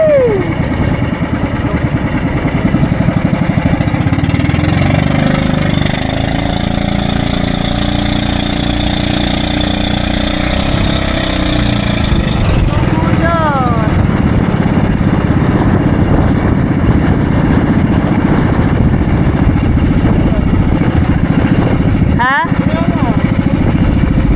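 A motor engine idles and rumbles steadily up close while people talk over it, the drone continuing for the whole stretch.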